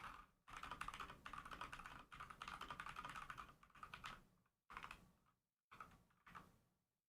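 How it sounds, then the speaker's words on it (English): Rapid clatter of typing on a loud mechanical computer keyboard, close up, in steady bursts with a few short pauses and no voices. "Loud keyboard? I know, I got that mechanical keyboard."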